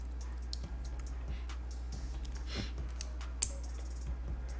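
Rapid, fairly quiet clicking of keystrokes on a bare plate and PCB assembly of an Alps J-02 keyboard, with no keycaps or case fitted, rattling steadily over a low electrical hum.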